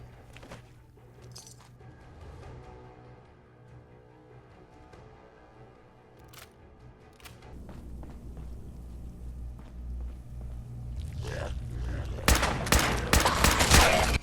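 Gunfire in Fallout 4 builds from sparse distant pops to a rapid, loud crackling fusillade near the end, over low rumbling game ambience.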